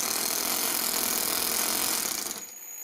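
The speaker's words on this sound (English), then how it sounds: "That's just a clutch spinning." A clutch spins on a four-stroke overhead cam engine fitted in an RC car, giving a steady, buzzing mechanical whir that holds evenly and then quickly drops away near the end.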